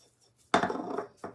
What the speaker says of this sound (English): Because I'm scraping the bottom of the bowl.